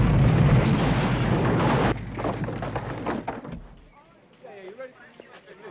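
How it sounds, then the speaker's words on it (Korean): A house blows up from gas left leaking through an open valve in a horror film: a loud, dense roaring blast fills the opening seconds, then breaks into crackling debris and fades under faint voices. "폭발하고 에디는 사망합니다."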